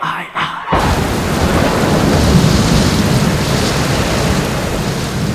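Heavy rain pours in a dense, loud roar after a brief quiet opening, with thunder rumbling underneath as the downpour holds steady throughout.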